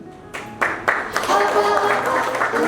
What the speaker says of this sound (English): Let's clap, guys.